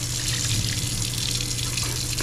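Hot water from a tap pours steadily into a sink or pot, a continuous close splashing rush that stays even throughout, with no speech.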